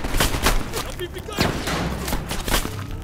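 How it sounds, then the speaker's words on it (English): Rapid gunfire in the video game Call of Duty Black Ops Cold War, dense bursts of loud shots and booming impacts filling the whole moment, close and continuous. "There's another guy somewhere shooting at me."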